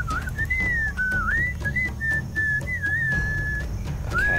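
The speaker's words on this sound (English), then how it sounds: "What is that enchanting whistling sound?" A clear, melodic whistled tune in the Sam & Max Beyond Time and Space video game, wavering up and down in pitch and pausing briefly, heard alone over a low ambient rumble inside an ancient cave.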